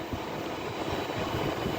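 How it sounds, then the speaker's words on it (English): An Avanti West Coast train departs Rugby station for London Euston, making a steady, continuous rumble and roar with no clear breaks. "departing now is, I believe, what will be the late running 14:34 Avanti West Coast service to London Euston"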